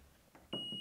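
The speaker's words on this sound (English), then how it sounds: "You find the live cable, it glows red and emits an audible alarm." A non-contact voltage tester held against a live cable sounds a steady, piercing electronic beep that starts abruptly and holds loud and continuous.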